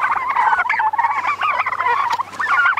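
Turkeys raised on pasture call continuously in a dense, overlapping chorus, loud and close, with warbling gobble-like notes and no talking.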